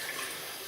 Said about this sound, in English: I am going to just wet my face